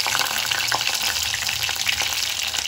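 Green chillies go into onions already frying in a new clay pot for vegetable biryani, giving a loud, steady crackling sizzle with some stirring scrapes throughout.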